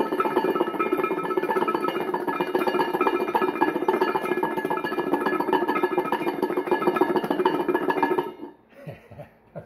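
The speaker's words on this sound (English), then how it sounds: "if you use two bowls, put it together and just shake it" Food rattles and tumbles loudly inside two bowls shaken together, a dense continuous clatter for several seconds before it stops and a few softer knocks follow.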